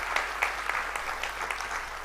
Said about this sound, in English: Let's clap for our teachers for all the effort they are putting to see us get this far